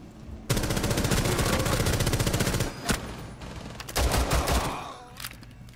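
Rapid automatic gunfire in Rainbow Six Siege Terrorist Hunt, loud sustained bursts of machine-gun fire with a pause and a sharp single crack, then more shots, close and dominant with no talking.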